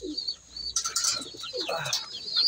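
Racing pigeons coo and chirp nearby amid flapping wings and rustling during feeding, a busy, close flock with no talking.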